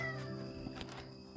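A stray cat meows close by, begging for anchovies, giving one short drawn-out cry that is fairly faint and heard alone.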